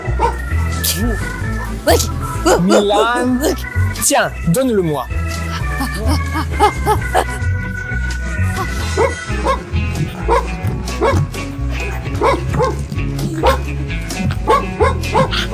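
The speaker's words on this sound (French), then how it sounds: "Je mets les aboiements du chien." Repeated dog barks and yips played from a recording, loud and close, come in bursts while a person speaks between and over them.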